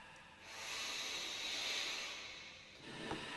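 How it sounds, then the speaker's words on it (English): A long, airy inhale rises and swells over a few seconds, close to the mic, followed by a brief soft catch at the end. "So to start with, we recorded actually him breathing in. So here is his breath."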